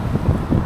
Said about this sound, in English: Windy as.